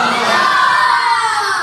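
A large audience at a religious gathering chants a slogan together, a loud, sustained wall of massed voices rising and holding steady throughout.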